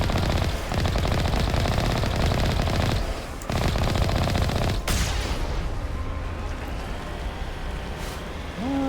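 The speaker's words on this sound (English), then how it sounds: "Yeah, just use the machine gun." Sustained, rapid machine gun fire in the Mass Effect 1 video game, loud and continuous for several seconds with brief pauses, then fading into a quieter ambient hum with a tonal electronic chirp near the end.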